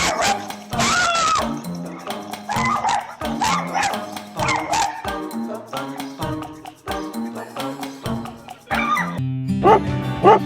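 A poodle barks sharply at a bear raiding the trash bins of a home parking area, the yips and barks near and loud over a dense, busy layer of music.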